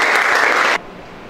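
Brief clapping from a class in a mathematics teaching session, a short burst of applause that cuts off abruptly into quiet room tone.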